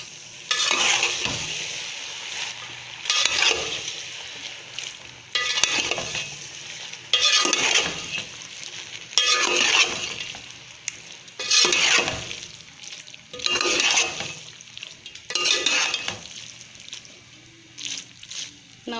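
Hot and sour chow mein with green onions being stirred and tossed in a hot pan, with repeated scraping, sizzling strokes in regular bursts about every two seconds, close and fairly loud.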